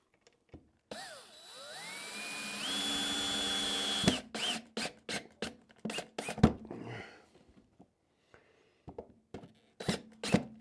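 A power drill drives screws into wood, giving a rising whine that settles into a sustained drive, then a series of short bursts as the screw is tightened, close and loud.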